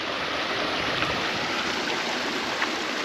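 A stream rushes steadily just above a small gully waterfall on a faint fell path between Ambleside and Coniston in the Lake District, a close, continuous broadband wash of water with no pauses and no talking.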